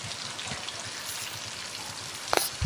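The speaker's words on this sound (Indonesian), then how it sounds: "mau siapkan wajan, kita mau goreng." Potato fritters fry in oil in a wok, giving a continuous close crackling sizzle, with a brief clink of a utensil near the end.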